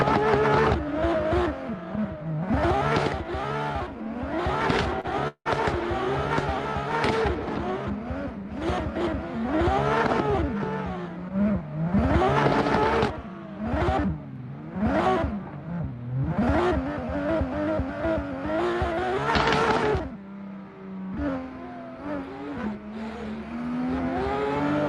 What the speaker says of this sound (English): I will still show the drifting, just so everything is alright.